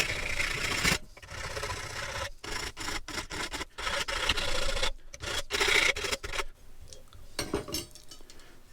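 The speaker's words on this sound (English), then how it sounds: "So I've just taken any burrs off there." Hand file rasping burrs off the cut end of a length of threaded rod in a workshop, several short close strokes in uneven bursts separated by brief pauses.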